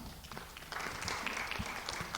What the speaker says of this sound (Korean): 여러분이 우리 도영호 목사님 박수 한번 해주십니다.